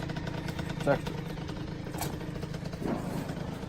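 A rebuilt Kawasaki KX60 dirt bike engine idles faintly at a low steady pitch, partly buried under muffled voices and a few brief background knocks.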